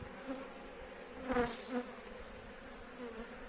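Honeybees hum softly from an opened spring hive, a steady low drone with a couple of brief louder swells as bees pass close to the microphone.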